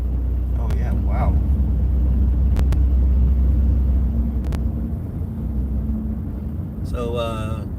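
Steady low road rumble from inside a car driving on the 294 expressway in the Illinois suburbs, continuous tire and engine drone with passing traffic, while people talk over it.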